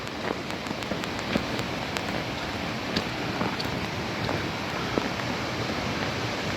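A mountain waterfall on a Himalayan pilgrimage trek sends out a steady, dense rush of water, a continuous broadband roar with no pauses and no voices over it.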